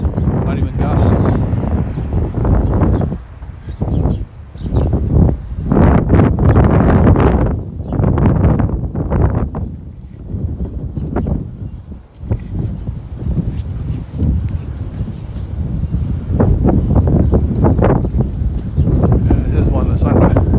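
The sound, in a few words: strong wind on a Boston street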